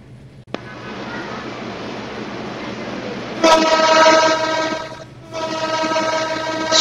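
In a train video game, a locomotive runs through Kotoria railway station with a steady rumble of wheels, then sounds a loud, sustained horn blast that breaks briefly and resumes.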